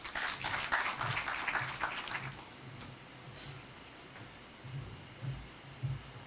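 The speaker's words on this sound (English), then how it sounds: "Another round of applause for Honorable Chair and the team of the Health Committee." Applause from an audience at the launch of a regional medical supplies distribution centre in Kisumu, heavy clapping at first that thins to scattered, quieter claps over a low background hum.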